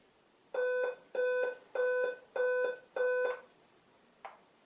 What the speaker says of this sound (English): 8 beeps.